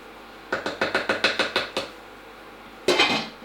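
Cooked mushrooms scraped into a casserole dish for slow-cooker coq au vin: about eight quick, evenly spaced clinking taps of a utensil against the dish, then one louder clatter.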